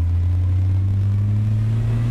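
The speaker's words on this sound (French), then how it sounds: "on lâche les gaz, l'échappement pétarade comme pas possible" A Ford Mustang with the 200ci inline-six rumbles steadily and loud at close range, a deep constant engine drone with no distinct exhaust pops standing out.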